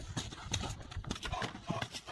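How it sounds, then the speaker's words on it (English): A horse's hooves clip-clop steadily across dusty ground, a quick, uneven run of close, loud thuds and scuffs kicking up dirt, with no voices present. "The horse kicks up a blinding cloud of dust, a futile attempt to mask his location."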